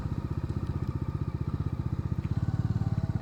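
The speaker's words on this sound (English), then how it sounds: "Why not this bike, Dominar 250?" A Bajaj Dominar 250 motorcycle engine while riding throbs with a fast, steady low-pitched pulse, close and even, with a slight rise in intensity near the end.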